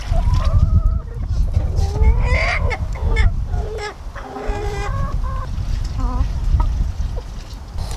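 Chickens cluck and squawk in a run with harmonic, honking calls, some overlapping, close by and fairly loud across the whole stretch.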